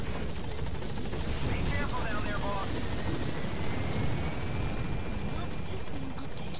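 Helicopter ride in Metal Gear Solid V: The Phantom Pain, a constant loud rotor thrum and engine roar with faint higher whines and game effects layered over it, holding steady throughout.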